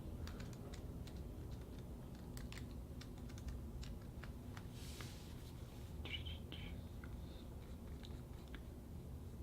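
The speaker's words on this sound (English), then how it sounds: "I'll just type it in the comments." Quiet typing on a computer keyboard, a close run of scattered key clicks over a low steady room hum, with no one talking.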